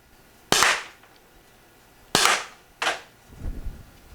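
Three sharp shots from an Umarex T4E HDP .50 caliber pepper round air pistol, loud and close, spaced over about two seconds, followed by a softer low rumble or thud near the end.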